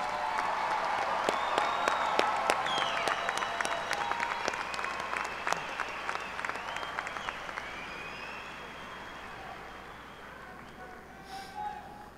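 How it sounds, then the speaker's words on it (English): Graduates at a spring commencement ceremony receive a sustained round of crowd applause, loud and dense at first and gradually thinning out. "One more round of applause."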